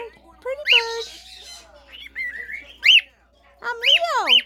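A cockatiel, recently recovered from a head injury, gives bright whistled chirps and rising-falling squawks in short close bursts separated by brief quiet gaps.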